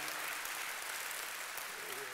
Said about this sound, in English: give God the biggest hand clap of praise that you can